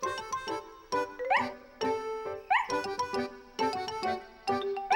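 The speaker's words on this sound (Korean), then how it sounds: "스너피는 반갑게 짖으며 꼬리를 흔들었어요." Short, repeated cartoon dog barks and yips with a lively, tuneful bounce, set over light chiming music.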